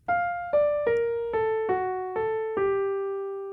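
A piano plays an improvised melodic line beginning on F and stepping downward in an exercise, with six separate notes struck one after another, each ringing and slowly decaying, played solo and close.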